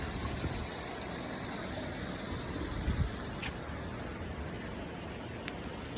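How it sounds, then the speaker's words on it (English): Waterfalls at Callaway Gardens in Georgia give a faint, steady, even rush of falling water, heard from some distance with no voices over it. "The amazing waterfalls."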